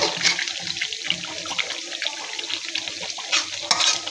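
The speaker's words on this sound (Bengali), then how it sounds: "ভালো করে আমি কষিয়ে নিব মাংসটাকে" Chicken korma meat is sautéed and stirred in a pan, with a steady close sizzle and scattered scraping clinks of the utensil throughout.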